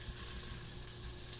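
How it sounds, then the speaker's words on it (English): Sausage sears in a pan for red beans and rice, a steady close sizzle and frying hiss that holds evenly throughout with no voices. "you just sear your sausage until it's nice and brown"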